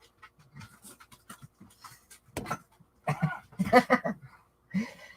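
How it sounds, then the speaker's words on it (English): An older gray standard Chihuahua panting and huffing near a door, quick breathy bursts with a cough-like snort, mixed with short bits of a person's voice. "I have a dog that wants to come in."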